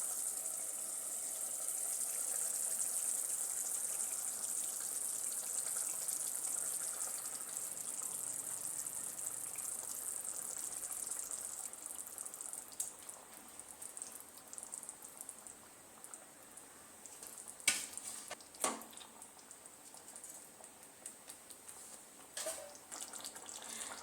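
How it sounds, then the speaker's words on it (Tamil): Fish curry bubbles in a pot as fish pieces are dropped in, a soft watery simmer and gush with a few brief splashes and clatters near the end, quiet and close. "கொதிச்சிருச்சு இப்போ வந்து நம்ம இதில் குழம்புக்காக எடுத்து வச்ச மீன் துண்டுகளை சேர்த்துக்கலாம்"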